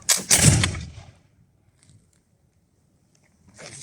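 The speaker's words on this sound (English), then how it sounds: "That was a slightly lesser shot, I didn't quite get the compaction, but that was a loud bang." A muzzle-loading flintlock musket, loaded with a cartridge and rammed down, goes off in a single loud, sharp bang that decays over about a second, then near silence before a faint new noise.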